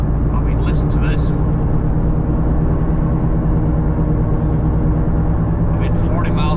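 A loud, constant roar fills the cabin of a Honda S2000 moving at 40 miles an hour, likely from a wheel bearing, a heavy low rumble that never lets up.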